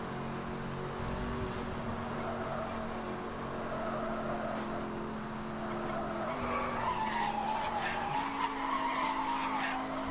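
Race car tearing off-road in Need for Speed Hot Pursuit 2010, engine droning steadily with tire skids and squeals over about ten seconds, loud and continuous under game music.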